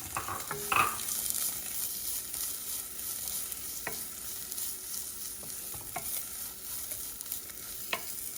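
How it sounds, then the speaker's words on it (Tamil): Vegetables sauté quickly in sesame oil, with a steady sizzle and a few sharp clicks of a spoon or spatula stirring against the pan. No one speaks. "நம்ம எடுத்து வச்சுக்கிட்ட காய்கறியை டக்குன்னு ஒரு 2 மினிட்ஸ் ஒரு டக்குன்னு குவிக் சாட்டே மட்டும் பண்ணி எடுத்து வச்சுக்க போகிறோம்"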